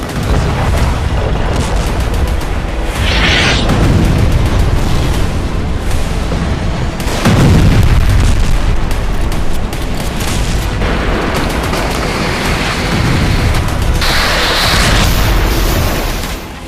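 Explosions from an Israeli strike in Beirut, a sustained roar of heavy booms and blasts with several loud bursts rising and falling across the clip, no voices.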